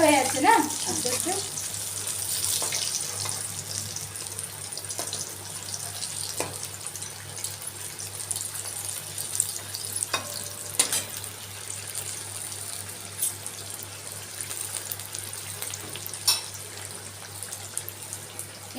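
Boneless chicken strips fry gently in hot oil, a steady close sizzle with soft bubbling and a few scattered pops and clinks.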